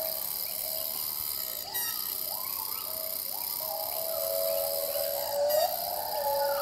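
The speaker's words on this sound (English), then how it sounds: "You have these cicadas." Cicadas in a tropical rainforest make a steady high-pitched buzzing drone, with repeated rising, warbling calls from other forest creatures layered throughout at moderate distance.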